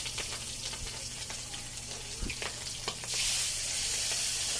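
Fish and its head frying in a pan of moderately hot cooking oil, a dense steady sizzle with a few small pops and clinks, then a brighter, louder hiss swelling in the last second and a half, close and without speech.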